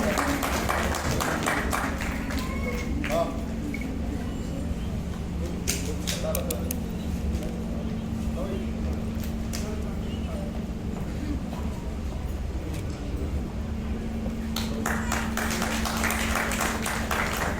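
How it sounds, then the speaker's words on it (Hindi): A crowd at an evening gathering of the EK PAHEL Welfare Foundation in Lucknow claps loudly. The applause is dense and steady for the whole stretch, with voices mixed in beneath it. "जोरदार तालियां होनी चाहिए"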